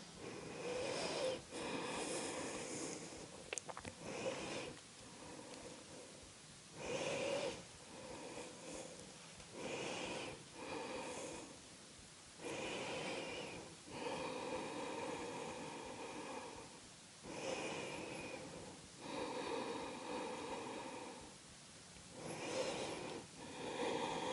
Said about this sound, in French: Qu'on ouvre cet espace pour quelques respirations là, en silence